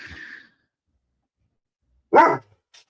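Dog barking indoors: one loud, close bark after a short, fainter sound at the start, with silence between.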